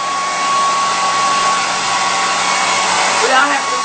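Hair dryer running steadily nearby, a loud continuous whooshing hum with a faint whine, its airflow shifting slightly near the end, no talk.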